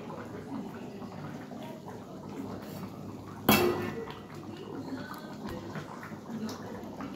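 Dishes clinking as food is served into bowls in a home kitchen, a single sharp clatter standing out against soft background clatter and room noise.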